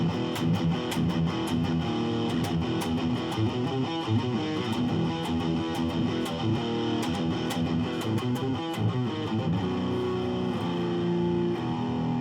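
An Ibanez S470 electric guitar is played through its neck pickup with a distorted tone, giving a busy run of picked notes and chords that stays loud and steady throughout.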